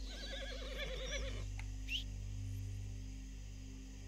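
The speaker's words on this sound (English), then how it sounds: "I don't want to have to come back for my horse." A horse whinnies in Red Dead Redemption 2, a clear wavering neigh in the first second and a half over a low steady game ambience, followed by faint rustling.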